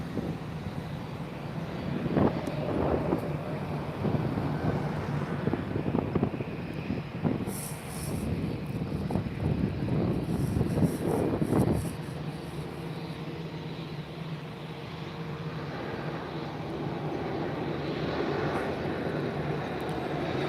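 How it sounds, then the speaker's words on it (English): A LATAM Boeing 787 Dreamliner takes off at Lisbon Airport on a sunny afternoon, its engine roar a steady, broad rumble heard from nearby, with wind buffeting the microphone and no talking. "in a few minutes, we're gonna have the 787 Dreamliner by LATAM taking off as well, just in front of us"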